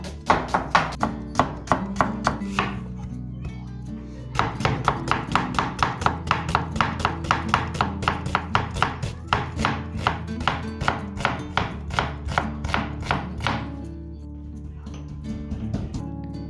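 Four or five garlic cloves are pounded in a steady rhythm of sharp, close thuds, with a brief pause partway through and a softer final few strikes.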